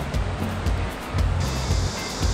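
A mountain stream in Guryong Valley on Jirisan near Namwon rushes loudly and steadily, a close, dense roar of water that swells slightly at moments with no speech over it.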